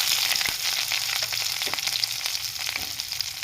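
Onion, garlic and green chilies fry in hot oil with dried red chilies, bay leaf, cumin and whole garam masala in a simple village-style dish, making a dense, continuous close sizzle with faint stirring scrapes and small pops.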